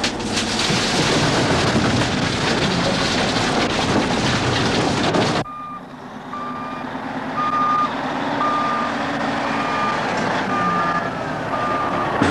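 Loaded rock-hauling trucks rumble on a frozen river ice road to island construction sites, a loud engine roar that drops away to a repeated, evenly spaced reversing beep over a low idling hum.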